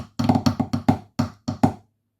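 Drumming of the first section of the Illawalla marine snare solo, a quick series of sharp, dry practice strokes in grouped bursts, close and alone, ending abruptly.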